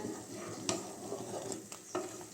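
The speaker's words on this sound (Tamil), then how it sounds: "அடுப்பை வந்து லோ ஃப்ளேம்லேயே வச்சு நல்லா மிக்ஸ் பண்ணிக்கோங்க" Millet rice (kambu soru) being stirred in a pot on a low flame, soft bubbling under several scraping strokes of a spoon, quiet and close with no talk.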